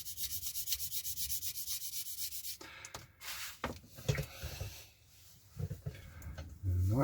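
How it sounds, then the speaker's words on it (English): A sander smooths a Kinetic 1/48 scale F-104J Starfighter model aircraft kit, giving a steady, close rasping for a couple of seconds before breaking into shorter, intermittent scrapes. "Go back with the sander."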